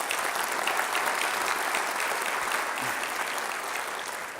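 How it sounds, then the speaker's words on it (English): An audience at a Long Beach civic development update event gives a steady round of applause, moderately loud and continuous, with no talking over it. "Let's give them all a big round of applause."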